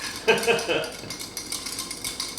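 A cacao gin cocktail is stirred over ice, with clinks and rattles of ice against the glass and spoon that are loudest at first and then settle into lighter tinkling, while a voice talks softly.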